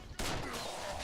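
Burst of gunfire in the tactical shooter game SAS: Secure Tomorrow, a sudden loud blast that cuts in abruptly and rings on as a sustained roar for under a second.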